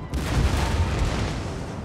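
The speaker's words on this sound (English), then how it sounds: "That militia is definitely the focus of their cannons." Cannon fire rolls across a Napoleon: Total War battlefield, a dense, loud rumble of overlapping booms that sustains for nearly two seconds before easing slightly.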